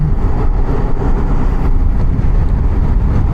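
Lorries rumbling at a border check post where vehicles are being checked, a steady, dense low engine drone with no distinct passes and no talk.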